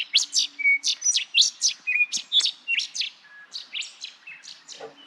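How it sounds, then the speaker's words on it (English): Birds chirping at a roadside stop on the Carnarvon Gascoyne road in Western Australia, a rapid series of bright, close tweets and short calls repeating in quick bursts against a quiet background. "Birds"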